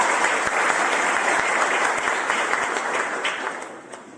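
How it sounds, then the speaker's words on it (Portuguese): A church congregation applauds steadily, a dense wash of clapping that carries on loudly before tapering off at the end. "Vamos aplaudir Deus por isso?"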